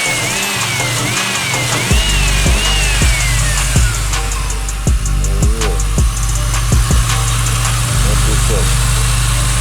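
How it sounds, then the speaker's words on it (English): A Mercury Cougar XR7 engine idles steadily up close with a low rumbling drone, while people talk intermittently over it. "Motor still sounds."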